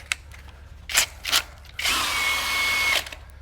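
A power tool spins a flap disc made from a belt sanding disc in a custom wheel-cover job for a 1968 VW, giving a sustained whirring grind after a few short bursts.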